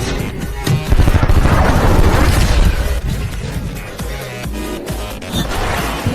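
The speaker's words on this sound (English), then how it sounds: "A speedboat met with the missile." In a film scene, a missile strikes a speedboat and sets off a loud, close chain of booms and crashing blasts. Dense rumbling debris and smaller impacts follow and fade in and out over several seconds.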